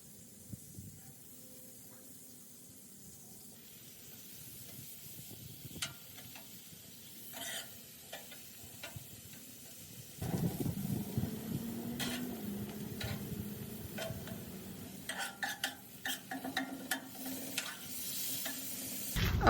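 Bacon and meat frying on a Blackstone griddle, a steady sizzle that grows louder and denser partway through, with scattered scraping and stirring taps, close and moderate in level.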